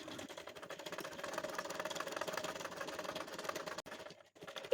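Sewing machine stitching the side seam of a small child's cotton frock, a steady continuous whir with rapid needle rhythm running throughout, briefly pausing near the end before resuming.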